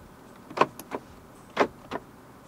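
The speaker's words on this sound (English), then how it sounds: "Central locking." Central locking on a 2021 BMW X7 xDrive40i, heard from inside the cabin as two pairs of sharp mechanical clunks, each pair a quick double thud about a second apart, close and distinct over quiet background.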